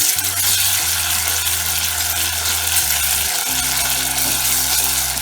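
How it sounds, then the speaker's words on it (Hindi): Ginger garlic paste sizzles in a hot pan while being stirred for a Kerala-style prawn curry, a steady bright frying hiss over low humming tones, with no one speaking. "अब इसमें हम डालेंगे 1 चमचा 1 टेबलस्पून अदरक लहसुन का पेस्ट। इसे जरा अच्छे से चला लेंगे।"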